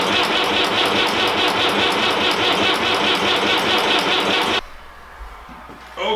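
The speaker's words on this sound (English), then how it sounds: "we cranked over the tractor until we got it up to 60 psi oil pressure" A Fordson Major tractor engine cranks over with the fuel cut off, a loud steady churning that runs continuously for about four and a half seconds, then stops abruptly, leaving faint background noise.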